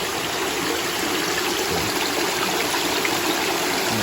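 A small waterfall of mountain water pours steadily into a tilapia grow-out pond, producing a loud, close, unbroken rushing splash with no voices.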